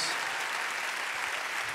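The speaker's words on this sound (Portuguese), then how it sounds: "Vamos aplaudir essas pessoas." A church congregation at a Portuguese-language service applauds in a steady, dense wash of clapping that holds an even level throughout.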